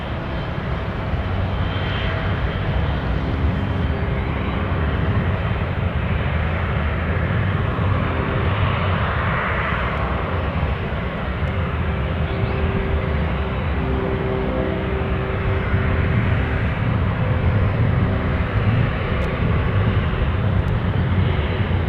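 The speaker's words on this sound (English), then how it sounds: "we have the China Airlines cargo that's going to be taking off, heading to Chicago O'Hare afterwards" A China Airlines cargo jet takes off at an airport bound for Chicago O'Hare, its engines a sustained, broad roar that swells and surges across the whole stretch, loud and continuous with no talk.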